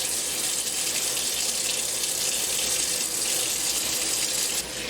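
A Longaberger Flameware ceramic skillet is rinsed under a running tap, a steady loud rush of faucet water splashing continuously throughout.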